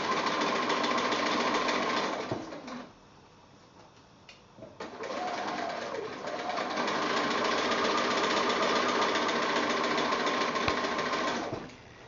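A sewing machine stitches a quilt block in fast continuous runs, pausing briefly for a couple of seconds in between before resuming, then stopping abruptly near the end.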